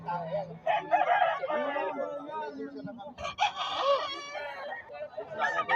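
Roosters crow repeatedly nearby, drawn-out harsh calls overlapping one another, with some clucking in between.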